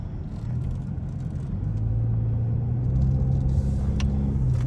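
A 2024 Ford Mustang EcoBoost cruising on a highway, its engine and road noise forming a steady, loud low rumble that swells slightly as it goes, with no talking.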